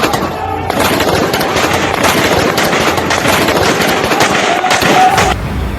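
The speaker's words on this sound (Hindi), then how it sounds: "इस तरह लोगों को गोलियों से छलनी किया जा रहा था।" Rapid gunfire bursts crackle through a street scene in Gaza, dense overlapping shots rattling loud and continuous with a faint voice underneath.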